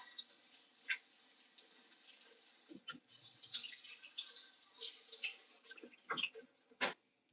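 Kitchen tap water running while fresh cilantro is washed: a soft, steady stream with intermittent splashes and drips, growing fuller in the middle before scattered splashing at the end.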